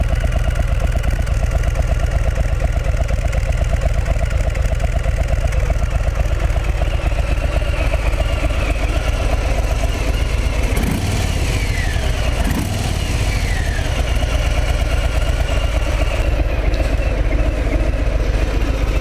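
A 2020 Harley-Davidson Softail Standard motorcycle engine rumbles steadily with deep exhaust throb, occasionally revving briefly, close by and continuous for the whole stretch.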